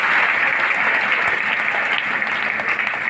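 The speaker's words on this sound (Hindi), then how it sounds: "जोरदार ताली होनी चाहिए।" Audience applause at a health training meeting in Fatuha, Bihar: dense, steady clapping from a large crowd, loud and close, continuing without a break.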